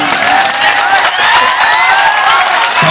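Crowd at a political rally in Samastipur, Bihar, clapping in a dense, continuous roar of applause that stays loud and steady throughout, with scattered cheering voices mixed in.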